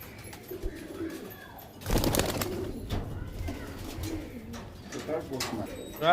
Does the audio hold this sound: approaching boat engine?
no